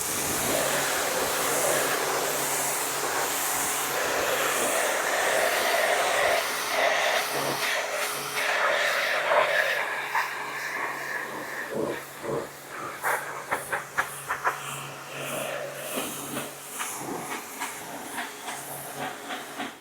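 A pressure washer with a 25-degree nozzle rinses a Bentley T1 classic car, giving a loud, steady hissing spray that continues throughout and breaks into choppier bursts toward the end.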